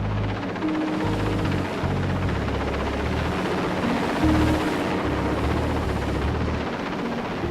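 A helicopter's rotors thrum loudly in a steady, low, pulsing drone that continues throughout.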